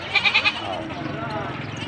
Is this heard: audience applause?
no